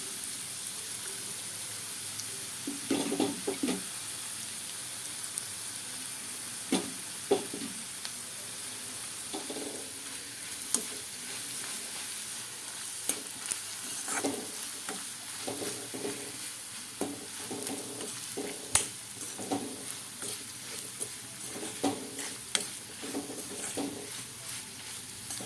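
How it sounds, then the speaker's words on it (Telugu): Bitter gourd pieces fry in a pan with soft sizzling, while a spoon scrapes and stirs at uneven intervals. The knocks and scrapes come close and distinct over a quiet, continuous frying hiss. "కాకరకాయ వేసి బాగా వేగిపోయింది"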